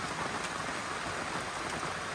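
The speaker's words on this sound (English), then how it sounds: "Unfortunately, it's really rainy today." Rain falling on a 2007 MacGregor 26M sailboat, a dense, even patter of drops hissing steadily on the hull and deck, with no voices.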